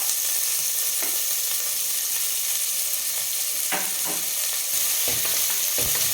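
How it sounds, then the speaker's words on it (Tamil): Chopped onion frying with cumin in hot oil, a continuous loud sizzle broken by occasional scraping stirs of a spoon in the pan. "வெங்காயம் ஒரு 2 நிமிஷம் நல்லா வதங்கட்டும்."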